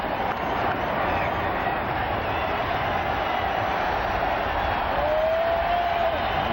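Sellout baseball crowd at Jacobs Field during the 1997 World Series, Florida Marlins at Cleveland Indians, ninth inning: a steady, dense roar of cheering fans that holds at an even level throughout, with a faint whistle rising near the end.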